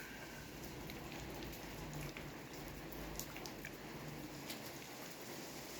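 Steady rain patters on a surface, a dense continuous hiss with scattered louder drops, fairly quiet and without voices.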